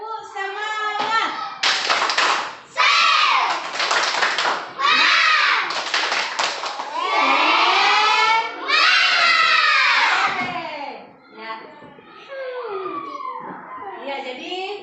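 Children in a classroom perform a rhythmic clapping chant, bursts of fast, loud group clapping alternating with shouted, sing-song voices over about fifteen seconds.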